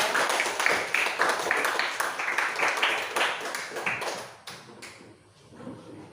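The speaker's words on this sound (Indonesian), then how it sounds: "kita tepuk tangan untuk kelompok" A class claps for group 3 after its presentation, many hands tapping in an uneven, brisk rhythm that thins out and fades toward the end.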